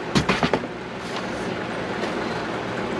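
A train passes near a Dollar General store, starting with a quick series of loud rhythmic wheel clacks over the rails and settling into a steady rumbling roll.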